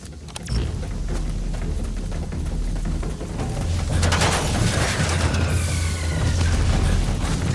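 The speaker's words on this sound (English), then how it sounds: "Did you see that explosion?" A vehicle explodes in the Metal Gear Solid V video game, a deep rumbling boom that swells and lingers over sustained low mechanical noise and debris, loud and heavy, with no talk.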